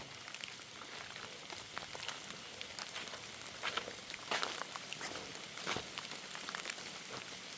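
Rain falling outdoors in Thailand during mushroom gathering, a faint steady hiss of drops with scattered louder patters and taps close by, with no voices.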